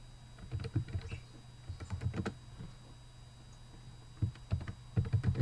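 Quick bursts of typing on a computer keyboard, clusters of soft clicks separated by short pauses, close and fairly quiet against a low steady hum.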